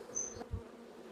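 Honeybees buzz around a hive colony with a confined, swarm-prone colony being checked after a Formic Pro treatment; a faint, steady insect drone with one brief closer buzz and soft knocks, no talking.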